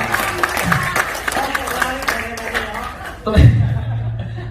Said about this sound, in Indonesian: Tepuk tangan buat Bu Suryanti ya.